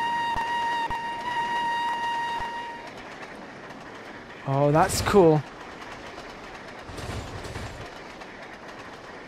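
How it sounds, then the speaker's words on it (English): A steam train in the Trainz railway game, on the Settle and Carlisle route, rumbles along and gives one loud whistle blast midway. A person talks briefly over the train noise. "There's another steam train coming this way, though."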